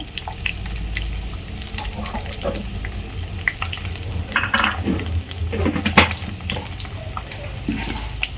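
Peanuts, curry leaves and dry red chillies fry in hot oil for a homestyle pulihora tempering, giving a steady close sizzle with scattered pops and stirring scrapes.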